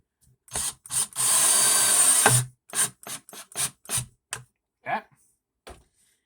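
A power driver whirs in a short burst to drive a screw into a part of a knife-sharpening jig, followed by a few brief clicks and handling knocks, with a voice speaking between them.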